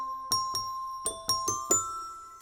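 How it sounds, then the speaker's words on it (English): A Christmas breeze bell synth patch in Omnisphere plays six or so clear bell-like notes at an uneven pace, each ringing out and decaying with shimmering overtones, alone. "I think I will go for this Christmas breeze bell."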